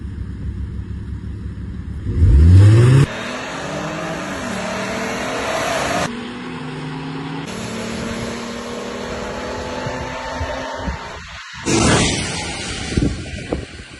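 A BMW F30 at a friendly drag-racing meet. One short, loud rev is followed by the car pulling away and accelerating through several gear changes, with the engine note rising in steps and fading to a medium distance.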